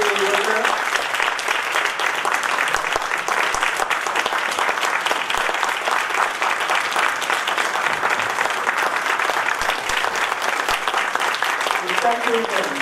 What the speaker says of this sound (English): Please applaud this miracle, Dr. Melissa Freeman